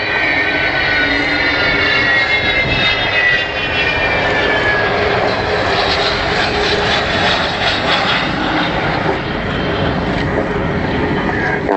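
Avro Vulcan XH558 delta-wing jet bomber approaching at an air display: a loud, continuous engine roar with a rising whine, steady and sustained throughout with no talk.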